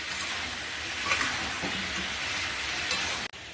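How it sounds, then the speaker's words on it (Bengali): Steady sizzling of prawns and bottle gourd frying in a hot wok, with scraping stirs over the hiss, close and fairly loud, ending with a brief cut. "চিংড়ি মাছ ভাজাও দিয়ে দিয়েছি। ভালো করে নাড়বো"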